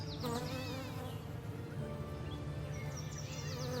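Honeybees at a traditional apiary in spring, a colony waking from winter, fill the air with a dense, steady buzzing drone, several individual bees whining close by as they fly past.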